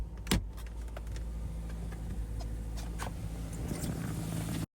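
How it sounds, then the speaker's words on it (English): A 2020 Subaru Crosstrek engine turns over after an oil change, with a brief sharp transient at the start giving way to a steady, close idle rumble that runs until a sudden cut, with faint key jangles on top. "now we're gonna start the car up"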